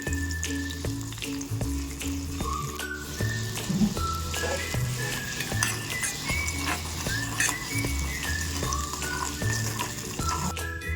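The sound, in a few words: tamarind pulp with turmeric cooking in oil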